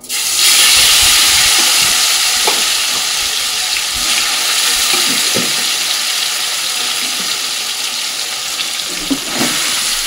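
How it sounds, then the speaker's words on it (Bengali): Marinated chicken with cumin, bay leaves and dried red chillies frying in hot oil: a loud, steady broadband sizzle that runs through, with a few faint clinks and stirring scrapes. "এবার মেখে রাখা চিকেনটা আমি এর মধ্যে দিয়ে দেবো।"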